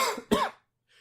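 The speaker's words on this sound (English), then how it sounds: "Coughing is one of them." A single person gives two quick, fairly quiet coughs in close succession, followed by near silence and a faint hiss.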